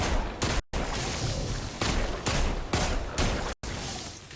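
Destiny 2 hand cannon shots with explosive payload crack out in a rapid series of loud, booming blasts, each burst trailing into an explosive rumble, several in quick succession with short silent gaps between.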